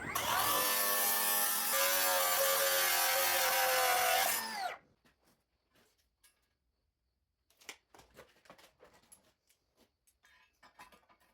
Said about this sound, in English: I'm cutting it down to 11 3/4 long